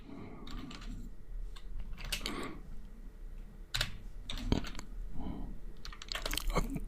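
Typing on a computer keyboard while writing CSS code, irregular clusters of crisp key clicks close to the microphone over a faint background hum.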